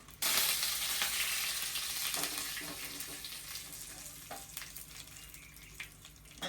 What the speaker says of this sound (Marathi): छान अशी फोडणी बसली पाहिजे असा आवाज आला पाहिजे फोडणीचा